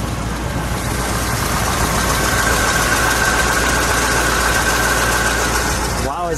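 A 1959 Ford Fairlane 500 Skyliner retractable with its 352 cubic inch V8 idles smoothly nearby, a loud, steady, even rumble throughout, with voices talking over it and a brief change near the end.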